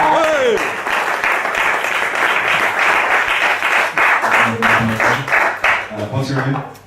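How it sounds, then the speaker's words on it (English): Audience applause for a volunteer called up onstage at a comedy show, a dense, sustained wash of clapping across the whole stretch, with a voice speaking over it near the start and again toward the end. "Round of applause, please."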